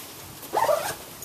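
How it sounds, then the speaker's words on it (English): Zipper pulled closed on a waterproof Beato Pro 1 drum bag holding a drum, a single short rasping pull at close range in a quiet room. "We're gonna close the zipper."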